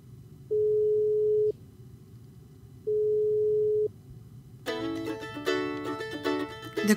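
Mobile phone call ringing through, two long steady electronic ringback tones with pauses between them, then a bright, busy burst of melodic ringtone at the end, in a quiet room.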